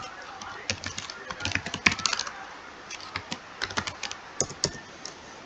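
Typing on a computer keyboard in irregular bursts of crisp, close keystrokes with short gaps between them, heard alone without speech.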